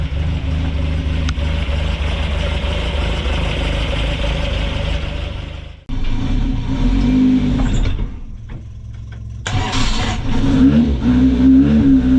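A TVR race car with a freshly built Ford Crossflow engine rumbles loudly and steadily, cuts out briefly, then revs again in uneven bursts as it pulls away, close to the microphone.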